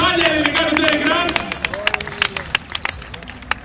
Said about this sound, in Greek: Ένα πολύ δυνατό χειροκρότημα